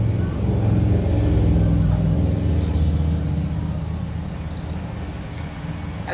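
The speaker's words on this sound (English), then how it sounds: "a conglomeration of motorcycles" A group of motorcycles rumbles past, a loud, low engine roar that swells early and then gradually fades as the bikes move away, with no talk over it.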